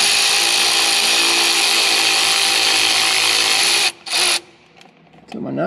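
A power tool whines steadily and loudly as it runs nuts onto PTO studs on an M939 series 5-ton military truck transmission, then briefly stops, restarts and cuts out.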